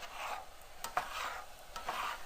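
A spatula scrapes and pushes a chili cheese omelette around a frying pan, giving soft rhythmic rasping strokes over a faint sizzle, fairly quiet with no talking.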